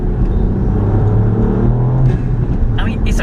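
A Ford Fiesta ST (Mk8) small car engine hums and revs with a low, throaty rumble, close by, while someone talks over it.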